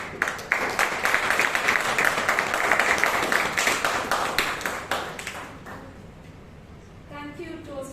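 Audience at a Bangalore Toastmasters meeting clapping after a table topics session: dense, sustained applause from many hands for about six seconds, thinning into scattered claps at the end, with some voices mixed in.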